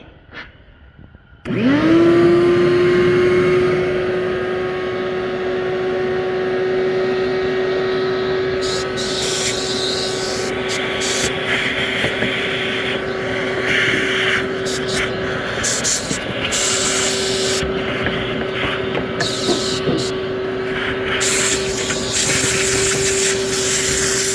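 A loud vacuum starts abruptly after a quiet moment and runs steadily with a strong whining tone, sucking fuel out of a Johnson snowmobile's fuel system in a garage, with fluctuating gurgles and hiss from the liquid later on.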